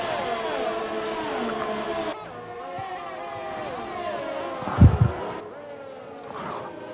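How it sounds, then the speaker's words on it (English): A racing car engine in a sim racing game whines through its gears, a mid-loud rising and falling drone with a brief sharp thump near the end, a commentary voice talking over much of it. "Oh, there's a car sound."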